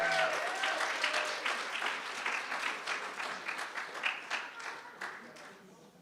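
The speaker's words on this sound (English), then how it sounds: "round of applause, please." A crowd applauds at an awards ceremony, welcoming someone to the stage. Clapping is steady and fairly loud at first, with some individual claps standing out, then gradually fades toward the end, with some talk mixed in.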